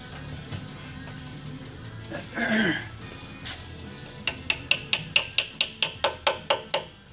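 A run of about ten sharp, evenly spaced hammer taps on metal, following some earlier scattered knocks and a brief scraping rustle, while installing a Toyota transmission.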